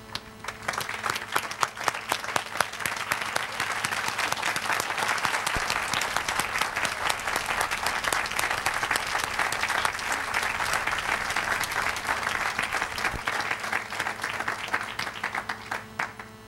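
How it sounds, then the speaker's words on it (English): A standing audience at an honorands dinner applauds, sustained, evenly dense clapping from a large room that holds steady for about sixteen seconds with no talking. "stand once more and applaud our honorands one last time"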